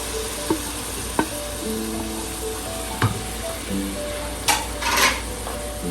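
Tomatoes and green chilies frying with garlic and ginger in a pan for a Pahadi chayote curry, a steady close sizzle broken by a few scraping stirs and light clinks of a utensil against the pot.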